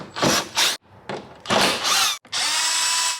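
Power tool spins out 10mm bolts from a Toyota front bumper, sounding in several short close bursts with brief gaps, the last burst running longer.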